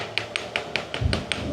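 A chisel is struck by a hammer again and again to cut through a block of cheese, giving seven sharp, evenly spaced taps about a fifth of a second apart, close and clear, with a dull low thud near the end.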